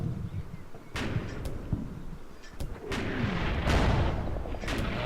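Support gun fire in the World War II strategy game Combat Mission Final Blitzkrieg, several sharp booming shots at irregular intervals over a rumbling battlefield background.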